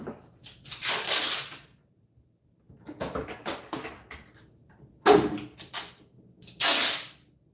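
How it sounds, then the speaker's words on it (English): Ultralight gray spray paint hisses from an aerosol can in several short bursts of differing length, separated by brief silences, close and loud, with no talk. "Light gray spray paint."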